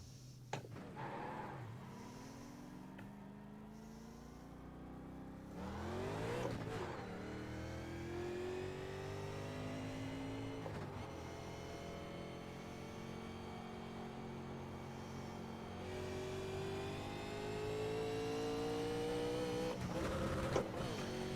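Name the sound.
NASCAR Legends race car engine in iRacing video game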